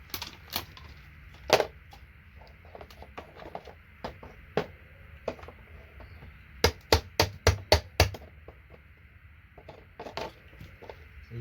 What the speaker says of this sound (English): I'm going to use the pliers just to remove it, because then I can hold the board down properly